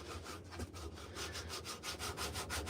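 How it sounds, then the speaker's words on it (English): Sandpaper rubbing steadily over a hand-carved wooden spoon in a workshop, a close, continuous scratchy rasp pulsing in quick back-and-forth strokes with no talking. "let's get this other piece of sandpaper"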